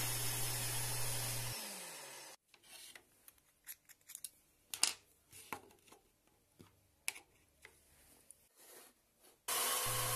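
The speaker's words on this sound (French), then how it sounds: "Je fais des rainures dans les montants pour pouvoir passer les fils." Grooves being cut into the wooden uprights of a small tropical greenhouse frame, a run of scraping, rasping strokes in irregular bursts, fairly close, with no talk, between stretches of steady motor hum at the start and end.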